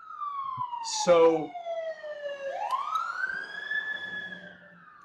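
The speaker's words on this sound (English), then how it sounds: "there's a siren coming" A siren wails outside, its pitch sliding down and then sweeping back up, loud and steady, with a brief spoken word near the start.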